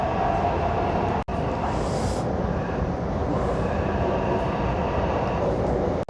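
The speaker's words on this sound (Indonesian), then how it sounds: "Itu ekornya kereta." The tail end of a passing train gives a continuous loud rumble and roar of rail wagons, with a rushing swell midway and two brief cut-outs in the sound.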